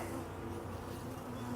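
Honey bees buzz around an open hive in an early spring apiary after rain, a continuous soft drone of many wings close by.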